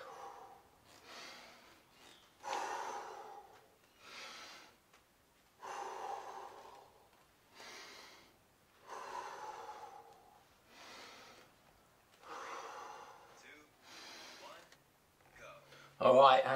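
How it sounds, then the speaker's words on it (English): Heavy deep breathing in the rest between boxing rounds, a slow series of loud inhales and exhales repeating about every second or two, close and alone, ending in a sudden louder bump. "Take deep breaths."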